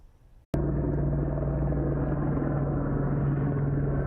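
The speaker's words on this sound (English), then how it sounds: "Neighbors woke up early Sunday morning to the sound of a sheriff's helicopter flying over Dia Abrams' ranch near Idlewild" Sheriff's helicopter over a ranch near Idlewild: after half a second of quiet, a steady, loud, low rotor rumble begins suddenly and continues evenly to the end.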